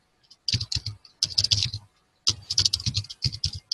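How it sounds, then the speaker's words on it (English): Computer keyboard typed in short bursts while entering an exploit command in Kali Linux, quick clustered clacking keystrokes separated by brief pauses, close and clear with no talking. "we launch the attack. How? By simply typing exploit."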